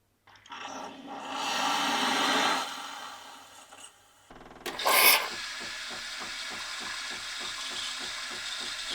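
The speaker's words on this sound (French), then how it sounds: "j'ai rempli le pichet avec de l'eau et je vais lancer un cycle ici, histoire de nettoyer l'ensemble des conduits" A Melitta Latticia coffee machine runs a water cleaning cycle to flush its lines. A soft whooshing rush gives way to a brief clatter, then a steady, rapidly pulsing pump buzz close by.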